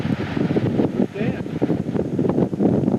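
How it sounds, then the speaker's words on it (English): Strong wind of about 60 miles an hour blows across a mountaintop during a caribou hunt. It buffets the microphone loudly throughout the short stretch, and a voice talks over it. "The wind's blowing about 60 miles an hour."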